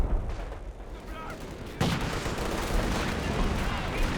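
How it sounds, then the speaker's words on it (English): Artillery barrage explosions in the Company of Heroes 2 strategy game, a dense rumble of shelling with a sharp blast partway through followed by continued low booming impacts and battle noise. "Oh, that artillery barrage dropped on the munitions point."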